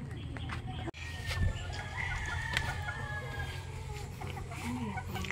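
Chickens cluck and crow while newly hatched chicks peep faintly in a backyard coop. The calls come in short bursts over a steady background, with a brief knock near the start.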